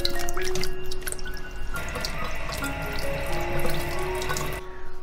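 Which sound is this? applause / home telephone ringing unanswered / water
water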